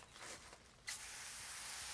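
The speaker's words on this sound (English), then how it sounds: "just going to spray all of this nasty mud off" Water sprays steadily onto mud-caked rocks in an iguana enclosure being rebuilt, a broad continuous hiss that swells sharply partway through and keeps rushing close and loud to the end.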